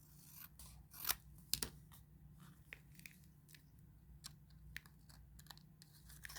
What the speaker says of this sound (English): we're going to just cut a little bit more off